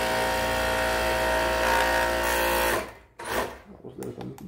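A Sun Special overlock sewing machine runs loud and steady with a high mechanical whir for close to three seconds, then stops abruptly, followed by a few brief handling sounds.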